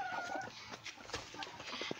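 Chickens and roosters, including Lohmann Brown and Czech Dominant breeds, clucking faintly on a small farm as a continuous low flock chatter.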